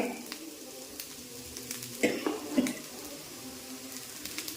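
Spices crackle and sizzle in hot oil in a pan as tempering for broken wheat upma, with a few sharper pops and spatters over a steady low hiss, close and fairly quiet.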